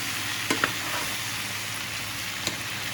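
Onions frying fast in a hot pan give a steady, close sizzle, broken by a few sharp clicks of a utensil against the pan.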